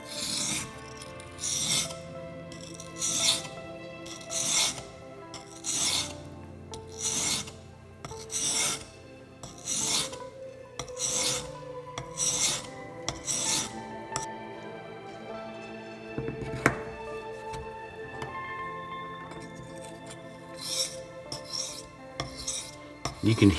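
Steady rhythmic rasping strokes of a knife blade on the 6000-grit side of a whetstone, repeated back and forth at an even pace, close and clear with no talking.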